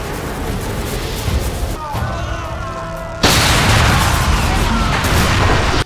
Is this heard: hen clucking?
no